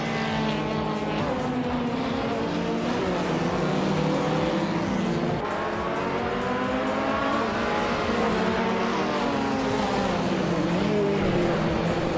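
Race cars battle closely through tight corners, with small cars like a Mini and an Abarth in the pack; a loud, continuous roar of engines rises and falls in pitch as the cars rev, shift and pass, with no pauses.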